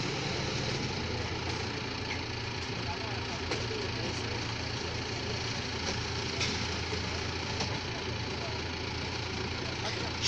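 Tractor engine idling steadily while loading manure at a school farm, a constant low rumble close by with faint voices chatting under it.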